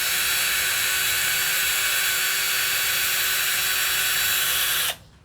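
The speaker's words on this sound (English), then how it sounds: "Then you just use your drill," A power drill whirs steadily at high speed while winding and twisting wire, loud and continuous, then cuts off abruptly near the end.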